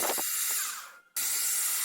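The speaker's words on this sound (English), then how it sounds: "I then drill part way through one side of the valve body with a 4 mm drill." A 4 mm drill bores part way into a metal valve body for a lathe spindle lubrication system, a steady high whine that briefly drops out before resuming at full strength, close and alone.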